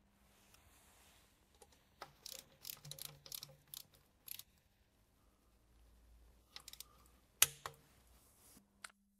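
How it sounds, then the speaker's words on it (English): Oil pan screws on an Audi S-Tronic automatic transmission being tightened crisscross with a ratchet to 10 Nm, heard as quiet bursts of close ratchet clicks and metallic taps separated by near silence. "We will now securely tighten them in a crisscross pattern with 10 Newton meters per screw."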